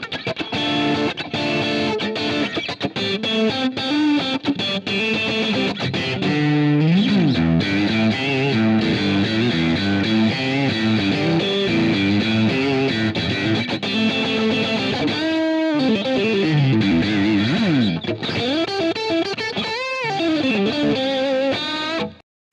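Heavily distorted Stratocaster-style electric guitar run through an Axe-FX II processor plays continuously, loud and close, with chords and bends ringing out and a brief pause near the end.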